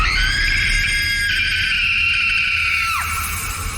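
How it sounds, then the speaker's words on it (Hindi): A woman's ear-piercing scream, used as an audiobook sound effect, holds at a high pitch for about three seconds and then drops off sharply, loud and close over a faint background. "उसे वहां किसी औरत की कान फाड़ देने वाली चीख सुनाई दी"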